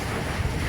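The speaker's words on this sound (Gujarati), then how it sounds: "પવન તો એટલો બધો જોરદાર થઈ રહ્યો છે અને વરસાદ પણ ખૂબ પડી રહ્યો છે" Strong gusting wind roars during a heavy rainstorm at a family home where the power has gone out, a dense broadband rush that stays loud and steady throughout with no voices.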